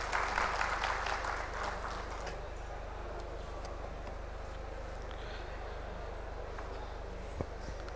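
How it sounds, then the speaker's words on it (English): An audience at a denim industry presentation applauds, a dense burst of clapping that is strongest at first and then thins to a steady, softer patter, with a single sharp knock near the end. "Let us have a big claps for the denim fraternity."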